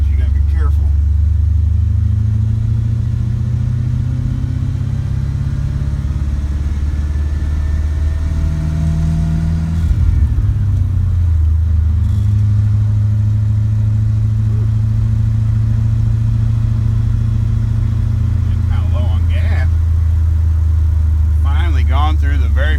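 A Chevrolet S10 Blazer swapped with a 5.3 V8 and T-5 manual gearbox drives on a road, its engine droning loud and steady with rising and falling pitch as it shifts, while someone talks over it.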